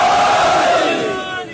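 A large crowd roars a religious slogan in unison, a loud sustained chant of many voices that fades slightly toward the end.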